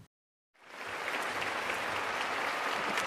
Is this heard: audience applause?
yes